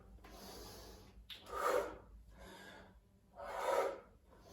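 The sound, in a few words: inhaling breath during a squat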